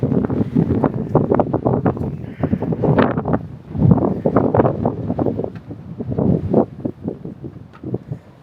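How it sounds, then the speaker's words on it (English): Gusty wind roars across an open microphone on a cruise ship deck at sea, a dense low rumble that swells and buffets continuously, with no clear voices. "It's going to be windy."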